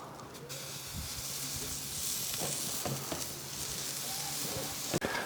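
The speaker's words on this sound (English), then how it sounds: "Then we just want to put these on the grill." Lamb koftas sizzling on a grill, a steady loud hiss of frying with scattered pops and crackles that runs throughout, close up and with no voices.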